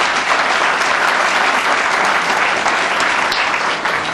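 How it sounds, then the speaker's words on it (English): Audience applause for a local bookstore owner at a bookstore talk event, a dense, steady wash of clapping from a sizable crowd, loud and continuous for the whole stretch. "Please do applaud your local bookstore owner."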